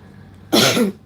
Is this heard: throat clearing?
yes